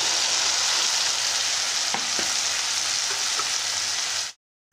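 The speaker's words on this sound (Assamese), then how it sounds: "মই জিকাখিনি এনেকৈ প্ৰথমতে ভাজি ল'লোঁ।" Chopped ridge gourd fries in a pan with tomatoes, oil and spices, a continuous close hiss of sizzling with a few soft stirring knocks before it cuts off abruptly.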